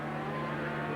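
A 1982 500cc Grand Prix racing motorcycle at the Dutch TT, Assen, roaring past at high speed through a corner, a brief loud engine howl with strong steady tones.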